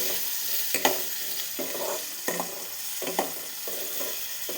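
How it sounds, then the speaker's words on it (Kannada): Chopped onion and turmeric fry in a pan while a spoon stirs, giving a steady sizzle broken by repeated scraping strokes at an uneven rhythm, close up with no talk. "ಚೂರು ಅರಿಶಿನ ಹಾಕ್ಕೋತೀನಿ. ಮಿಕ್ಸ್ ಮಾಡ್ಕೊತಾ ಇದ್ದೀನಿ."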